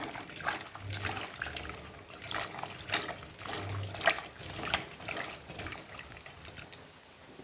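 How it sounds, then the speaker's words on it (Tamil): Cut eggplant pieces are rinsed in clean water in a home kitchen while a sambar is being prepared, with soft splashing, trickling and sloshing that comes and goes at a quiet level. "திருப்பி ஒரு தடவை நம்ம நல்ல தண்ணியில் கழுவிடலாம்."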